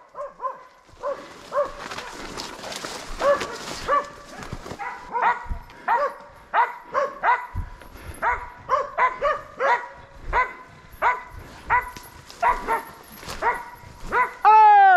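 Hunting dogs bark and yip repeatedly in a wild boar drive hunt, a chorus of sharp, uneven barks close by that continues throughout, with occasional whimpers.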